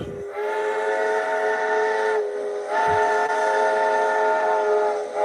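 A loud, sustained steam train whistle sounding near and continuous, with a rich chord of steady tones that briefly dips in the middle before resuming at full strength until the end.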